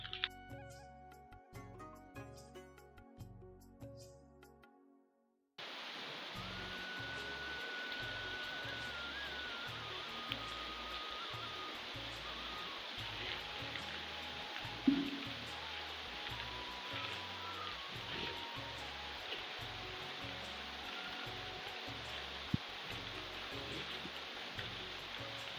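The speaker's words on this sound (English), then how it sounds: "We have been caught up in the rain." Heavy rain pours on a rural village farm in Kenya. The dense, steady hiss starts suddenly after a few seconds of quieter sound and then continues unbroken and close, with no one talking.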